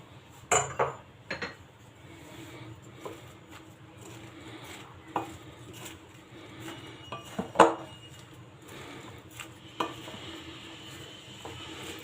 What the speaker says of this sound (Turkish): her yerine gelecek şekilde karıştırıyoruz harcımızı iyice karıştırdık